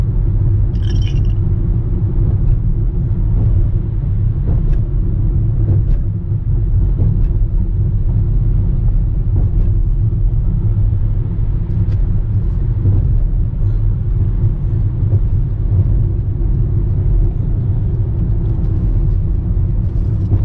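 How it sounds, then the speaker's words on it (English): Steady low rumble of Sunday road traffic in Tijuana, Mexico, from inside a moving car, engine and tire noise constant throughout with occasional soft bumps. "But just kind of normal Sunday weekend traffic."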